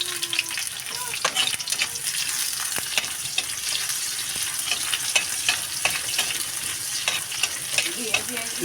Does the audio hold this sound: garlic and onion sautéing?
yes